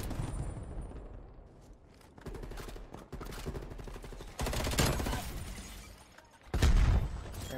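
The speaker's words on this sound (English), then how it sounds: "I just got shot in the back." Bursts of automatic gunfire in Call of Duty: Black Ops Cold War, rapid rattling volleys at varying distances with louder blasts near the middle and end, no talk over them.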